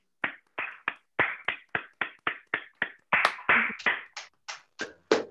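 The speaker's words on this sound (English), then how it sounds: "Everybody, give Helen a big round of applause." A few people clap for Helen at a gathering, starting with about a dozen sparse, separate claps at a steady pace, then a short louder cluster from several hands together, ending in scattered single claps close by, with no talking.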